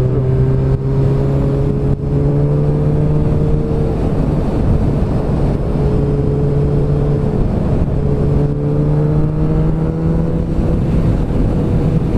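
A car engine droning loud and steady while accelerating, its hum rising and slipping in pitch through gear changes, close up with no other sounds.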